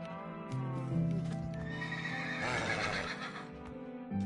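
A horse in Minecraft whinnies loudly and close up, a long wavering neigh, with faint hoof clops and a low snort near the end.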